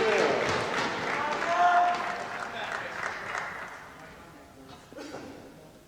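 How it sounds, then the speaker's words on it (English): Applause and crowd noise from spectators at a university badminton league match in a sports hall, a broad steady wash of clapping through most of the stretch, easing toward the end, with a brief squeak and some voices mixed in. "we're getting a little bit of noise from the crowd now"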